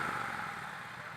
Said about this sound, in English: It's a nice exhaust sound too.